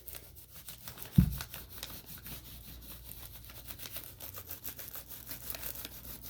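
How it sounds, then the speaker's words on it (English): A crayon rubbing over pine needles laid under paper: faint, steady back-and-forth scratchy strokes, close and quiet, with one soft thump near the start. "I'm just going to lay my pine needles flat, and I'm going to rub them out yet again."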